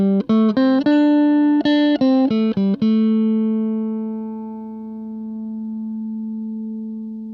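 A clean, dry instrument tone passed through a SOMA Cosmos pedal: a quick run of plucked notes in two short bursts, then one held note that rings out and slowly fades, close and clear, with no talking.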